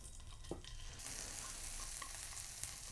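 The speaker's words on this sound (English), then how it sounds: "I'm gonna just slightly stir fry it" Kimchi stir-fries in sesame oil in a pan for Korean albap, giving a close, steady sizzle that grows fuller and louder after the first second and carries on without a break.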